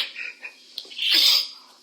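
A single sneeze bursts out loudly about a second in, preceded by softer breathy sounds during an indoor interview.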